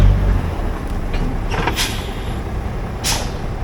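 A winch truck's air brakes release a couple of sharp pneumatic hisses over steady engine idle, one burst near the middle and another shortly after, close and fairly loud.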